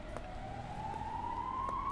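An ambulance siren wails on a single rising tone, faint and distant over low traffic rumble, with no talk.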